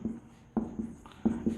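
Pen writing out a maths equation, a few quick scratchy strokes and taps in short clusters, close and quiet with no talk.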